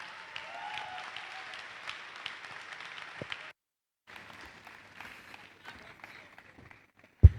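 An audience applauds to welcome a speaker at a talk, a moderate patter of clapping that breaks off midway, followed by quieter room sound and brief voices, with a sharp thump at the very end.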